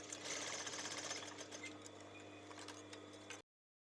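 A sewing machine running steadily as it stitches a seam on a baseball top, giving a fast, even mechanical whir and ticking close by that stops abruptly.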